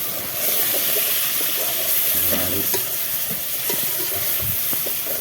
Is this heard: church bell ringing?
no